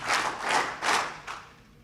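An audience at a Life Talks speaking event claps on request in four short, rhythmic bursts of applause that fade toward the end.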